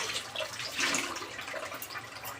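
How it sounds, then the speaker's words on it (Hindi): Water runs slowly from a household tap in a faint, uneven trickle with soft splashes, quiet and close, with no voices. "मेरे टैप में पानी भी देखिए कितना स्लो आ रहा है"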